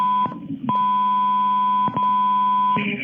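Electronic alarm beeping at a police scene: long, loud, steady high tones repeated in a regular pattern with brief gaps between them, sounding alone without speech.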